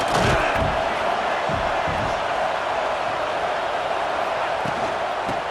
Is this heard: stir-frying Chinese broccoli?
no